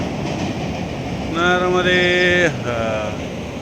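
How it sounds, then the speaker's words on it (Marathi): A train crosses overhead near the Narmada river at Narmadapuram, sounding a loud, sustained tonal blast for about a second over a steady rolling rumble that fades afterward. "रेल्वे गेली का डोक्याहून"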